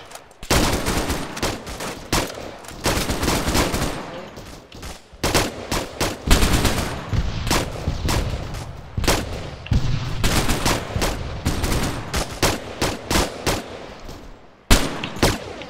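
Machine gun fire in a military combat game set in a desert compound, long loud sustained bursts of rapid automatic shots with brief gaps between volleys, close and dominant.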